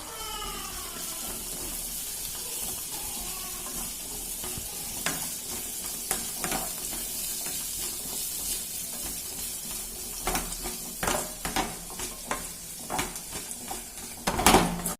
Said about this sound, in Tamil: இட்லி போட்டு நல்லா வதக்கிக்கலாம்.